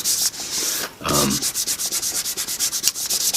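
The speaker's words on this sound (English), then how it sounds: "And I'm rubbing it down real good." Fingertips rub firmly down a fold in paper, a close, steady scraping in repeated short strokes after a brief pause.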